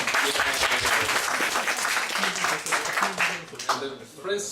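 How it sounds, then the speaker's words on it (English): A crowd applauding, dense steady clapping that starts to thin out near the end, with a voice speaking faintly underneath. "Big applause."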